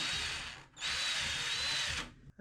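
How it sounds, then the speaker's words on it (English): Power drill boring screw holes through a bathtub flange during a shower wall install, heard as a loud, close, high whine in two bursts split by a brief pause. "So I'm gonna go around making holes on the tub on where I'm going to screw it to the wall."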